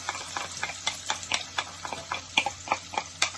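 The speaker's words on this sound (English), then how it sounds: "sweat the onions" Chopped onions sweat in a pot with white pepper, all-purpose seasoning and salt for a vegan butternut squash soup, while a spoon stirs them in a steady run of close, sharp clicks and scrapes over a faint background hum.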